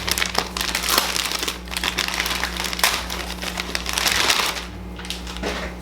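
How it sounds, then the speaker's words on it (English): Plastic bag packaging crinkling and crumpling while a Louis Vuitton Alma handbag is unboxed, a steady close rustle with crackly bursts throughout, over a low background hum. "So it comes in a plastic bag."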